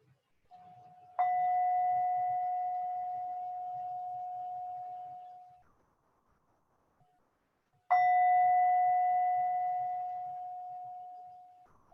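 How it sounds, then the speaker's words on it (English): A meditation bell rings twice, each a clear struck tone that sustains and slowly fades, several seconds apart in a quiet room. "listening out for the sound of the bell."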